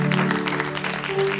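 Church congregation applauding, a brief dense wash of clapping with a sustained tonal hum beneath, moderately loud.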